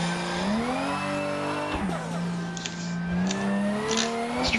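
Toyota Supra accelerating hard in third gear down a straight, its engine note climbing loudly and steadily, then dipping as a brief blow-off valve hiss sounds between gear changes, with fainter hissy bursts following.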